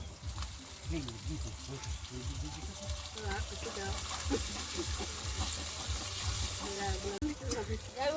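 Ginger paste and tomato frying in a pan: a steady, fairly soft sizzle and hiss with occasional stirring, running under a person talking.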